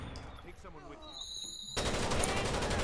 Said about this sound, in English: I hear shots, but I don't see you?